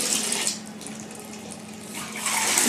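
Hot water runs from a bath tap, a continuous hissing splash that dips a little in the middle and swells louder toward the end, close and with no talking.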